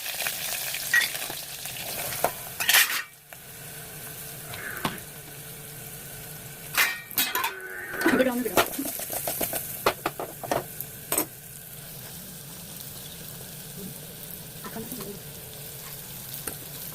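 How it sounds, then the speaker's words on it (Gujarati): Chilli, garlic, curry leaves and torn pieces of leftover flatbread fry in hot oil in a pan, with a continuous close sizzle and repeated scraping and stirring clatters of a spoon against the metal, no talking heard. "હવે આપણે એને ખાલી વઘારવાનું છે."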